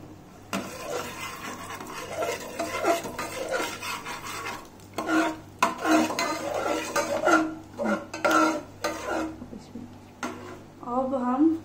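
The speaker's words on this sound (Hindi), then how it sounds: "काजू बादाम को थोड़ा भून लेते हैं।" Crushed cashews and almonds dry-roasting in a pan, with a spoon repeatedly stirring and scraping against the metal in an uneven rhythm, close and moderately loud, and a few brief clinks.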